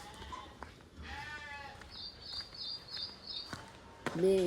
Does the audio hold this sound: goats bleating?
yes